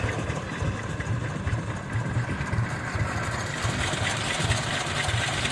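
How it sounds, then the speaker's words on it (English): Several vintage tractor engines, including Allis-Chalmers B and Farmall B models, idle together at a threshing bee show in a steady low chugging rumble, a continuous mechanical drone with a faint rhythmic pulse and no voices. "got a nice lineup of tractors"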